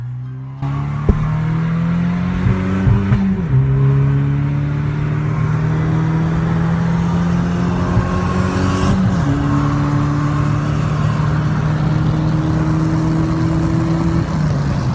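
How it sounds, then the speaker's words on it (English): A 2003 Mustang GT and a 2009 Cobalt SS Turbo accelerate hard side by side in a race, loud sustained engine drone rising in pitch through gear shifts over about fifteen seconds. "we got a 2003 Mustang GT versus a 2009 Cobalt SS Turbo"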